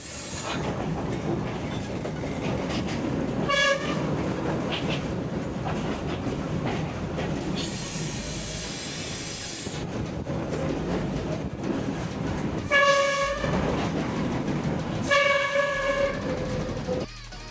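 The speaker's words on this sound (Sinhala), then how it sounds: "අපි මේ ගමන ගියේ ට්‍රේන් එකේ" Ride aboard a locomotive engine in Colombo: continuous close rumble and rattling wheels throughout, with several loud sustained horn blasts partway through and near the end.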